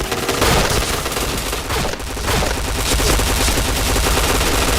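Heavy gunfire fills PointBlank, an online shooter, as a loud, continuous barrage of overlapping rapid shots with almost no pause.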